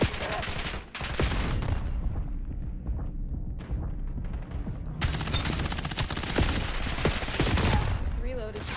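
Rapid bursts of automatic gunfire in the shooter game Black Ops 7, loud and dense with short pauses and thuds, a player talking over the shots.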